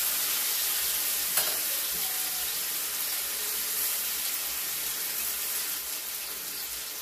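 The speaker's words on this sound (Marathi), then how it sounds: "आता एक मासा आपण ठेवायचा तळण्यासाठी." Fish frying on a tawa pan in a home kitchen, a steady close sizzle of hot oil running throughout with no talk.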